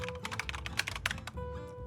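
Rapid typing on a computer keyboard in a browser on a newly built PC, quick clustered key clicks over a steady hum, pausing near the end.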